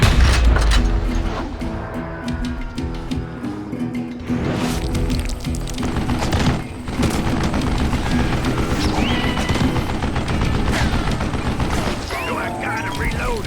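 Gunfire in the Wild West shooter Call of Juarez Gunslinger, sharp shots and booming bursts scattered through a busy battle mix with music and a narrating voice.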